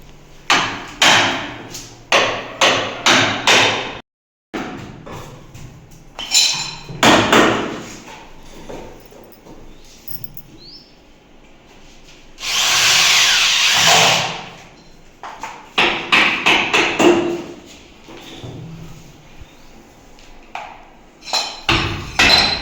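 Carpentry machines at work on doors for a new house: a rapid series of sharp hammering strikes on wood, a sustained loud burst of wood cutting midway, then more clustered close knocks and taps.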